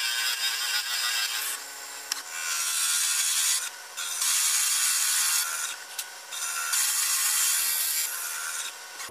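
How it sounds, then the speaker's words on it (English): A 3/4 inch Forstner bit bores into wood spinning on a lathe, making a loud, continuous, close grinding hiss that dips briefly a few times as the cut eases, then resumes at full strength. "I'm going to start off with a 3/4 inch Forstner, and then we'll work our way up to the 1 3/8."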